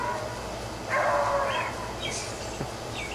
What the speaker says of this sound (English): We have a lot of dogs in this park.